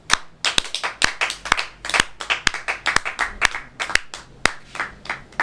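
A church congregation clapping in praise, with sharp, fairly regular claps of a small group ringing out close and loud in a steady rhythm.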